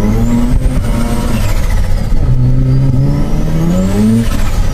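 A Mazda RX-7 FD engine revs loudly up close, its pitch climbing, dropping and climbing again through several throttle blips with a strong buzzing rotary drone throughout.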